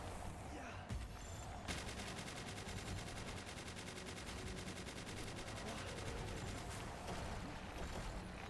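Pistol fire in the PalWorld video game, a long run of rapid, faint shots rattling steadily over a constant low ambient hum, with no talking.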